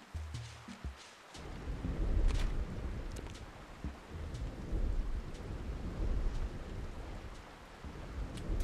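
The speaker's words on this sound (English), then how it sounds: "I love the thundering and lightning on this." Rolling thunder and steady rain from a storm in the GameCube game Animal Crossing, low rumbles swelling and fading repeatedly over a constant patter of rainfall.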